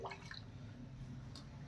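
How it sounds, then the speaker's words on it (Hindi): Chemical solution for removing oil stains from a saree being stirred by hand in water, giving a brief soft swish and slosh near the start, then quiet low water noise. "तो इसको इस तरह से घुमाना है दोस्तों, इस तरह से इसको मिक्स करना है"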